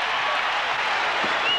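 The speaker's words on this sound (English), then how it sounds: "the crowd stands and gets jubilant" A basketball arena crowd at a college game between Duke and Arizona claps and cheers in a brief, dense burst of applause, with a faint voice underneath.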